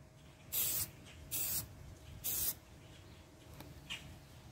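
Three short bursts of aerosol spray paint hiss, each about a quarter second, close to the mic with quiet pauses between them.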